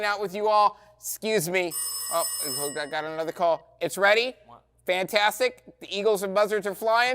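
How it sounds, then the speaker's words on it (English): A telephone rings briefly as a high electronic trill, half-buried under steady conversation between several voices on a children's show. "Is that a phone?"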